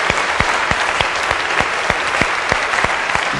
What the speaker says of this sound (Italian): facciamo un applauso a Elvis